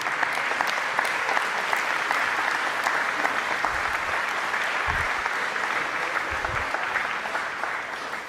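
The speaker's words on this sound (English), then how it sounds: "Let's give them a round of applause." Steady applause from a crowd at the Ohio State Fair opening ceremony, continuous clapping held at an even level for several seconds with a few low thumps underneath.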